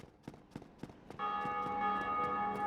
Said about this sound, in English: every time you hear the bell ring is some other player, because there's a bell right above this church